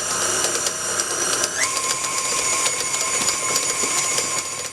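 A stand or hand mixer whirs steadily as fruit is beaten into a buttery yeast cake dough for Sri Lankan breudher, a continuous close motor drone with a tone shift partway through and no talking.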